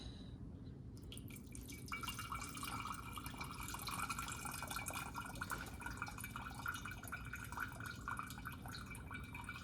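Homemade vegetable stock ladled and poured through cheesecloth, a steady close trickle and patter of liquid dripping through the cloth into a container below, continuous for the whole stretch with no talking.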